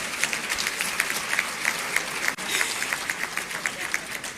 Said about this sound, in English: Please applaud Mr. Andrews Kwesi Boateng.